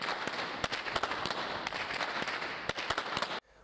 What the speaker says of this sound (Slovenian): Lik pokač zahteva posebne veščine, saj je vihtenje biča zahtevno pravilo.